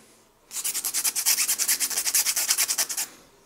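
G10 knife handle scales for a custom Victorinox being sanded flat: about twenty quick, even back-and-forth rubbing strokes, loud and close, with no voices.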